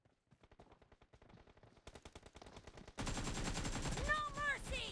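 Gunfire in the mobile battle royale game PUBG Mobile during an 8 versus 8 match: rapid automatic bursts that grow louder, then a dense, heavy barrage with ricochet-like whines near the end.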